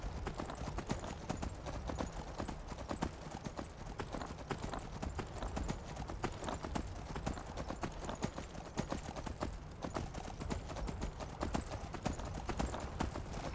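Horse hooves galloping along a road in the Skyrim video game, a rapid continuous clip-clop rhythm close up and steady throughout, with faint game ambience underneath.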